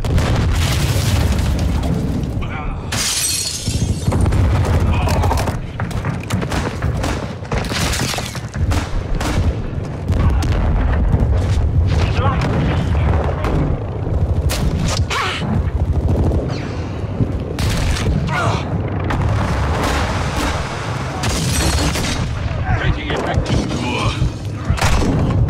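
Call of Duty Modern Warfare 2 combat: loud bursts of automatic gunfire and heavy booming explosions, dense and repeated throughout, with voices now and then beneath the noise.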